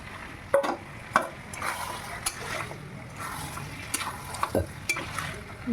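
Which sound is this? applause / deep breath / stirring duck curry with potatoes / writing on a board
stirring duck curry with potatoes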